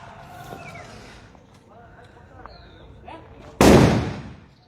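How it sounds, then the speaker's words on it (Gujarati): A single sharp, loud firecracker bang bursts out near the end of a primary school campus celebration, after a stretch of quiet background sound. "અત્યારે ઉજવણી કરવામાં આવી રહી છે શિક્ષકો દ્વારા અને વિદ્યાર્થીઓ દ્વારા ફટાકડા ફોડીને"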